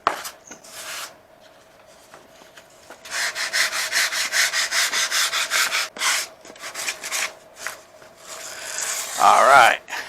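Sanding a filler piece on the edge of a model aircraft wing, with rhythmic back-and-forth rasping strokes in quick bursts, close and moderately loud, with pauses between runs.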